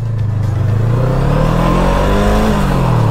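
An FKM Glider 500 motorcycle pulls away in first gear toward 40, its engine note climbing steadily and loudly for about three seconds with no one speaking.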